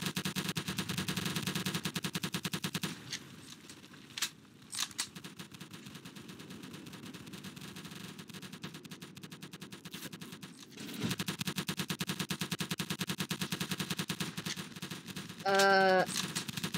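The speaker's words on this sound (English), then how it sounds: "They just keep firing over and over" Rapid automatic gunfire in a Roblox D-Day beach battle, a dense, steady rattle of shots that drops away briefly midway, then returns at full intensity, with a short rising tonal effect near the end.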